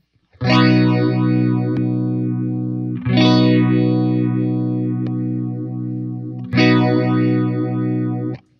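A Fender Lost Highway Phaser guitar pedal set to 8 stages sweeps through sustained, heavily effected guitar chords, its notch pattern rising and falling in loud, close waves, with each chord restruck roughly every three seconds.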